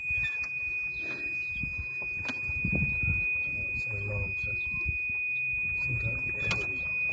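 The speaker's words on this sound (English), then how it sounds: "Oh, okay, it's an alarm going backwards, is it?" A golf cart's reversing alarm gives a thin, high repeated beep that sounds steadily under nearby talk and background noise.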